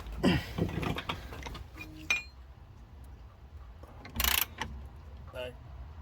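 A ratchet tightening a bolt on a BMW 5 Series front spring: a few short metallic clicks and clinks, faint and intermittent, with a quiet pause between bursts.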